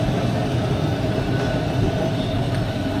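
Heritage tram rolling past at Crich Tramway Village, a steady close rumble of wheels on rail with no talking.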